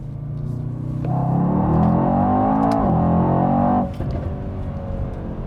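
A Mercedes-Benz E63S AMG with a Brabus kit accelerating through first and second gear, its engine note rising in a strong, steady drone heard from inside the car, then dropping sharply at the shift, with no talk.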